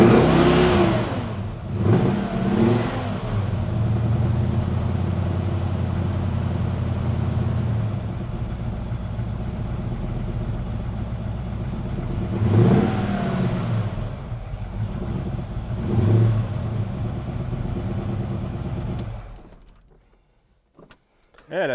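A 1971 Mustang Mach 1 with a lightly tuned 351 Cleveland V8 cranks, fires and idles with a deep rumble, then revs repeatedly in loud surges up close before the engine cuts off.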